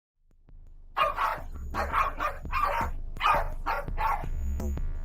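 Several Jack Russell terriers bark at a snake in a chicken coop, a rapid run of sharp, loud, close barks in quick irregular bursts, with no speech.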